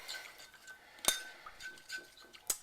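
A spoon stirs a bruschetta topping of basil and oregano in a bowl, with soft scraping broken by a few sharp, close clinks of metal against glass or ceramic.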